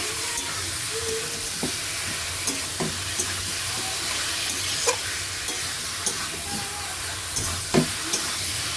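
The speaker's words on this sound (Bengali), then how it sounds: "যে মাংসটা ম্যারিনেট করে রেখেছিলাম ওটা এবার এর মধ্যে আমি দিয়ে দেব। দিয়ে ভালো মতো সব মিশিয়ে নেব।" Marinated chicken stirred and fried in a pan: a steady close sizzle and hiss with regular scrapes and knocks of the spatula punctuating it every second or so.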